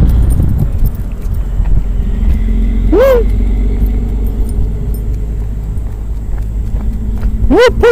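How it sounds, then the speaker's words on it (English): A big truck passes close by with a steady heavy low rumble, a horse nearby on a lead, and brief rising air-brake or horn-like tones around three seconds and again near the end; a person speaks over it. "It's a big truck"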